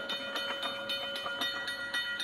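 Train passing in a railway crossing video game, a steady rolling rumble with rhythmic clicks of wheels over rail joints and a sustained whistle-like tone, close and continuous with no talk.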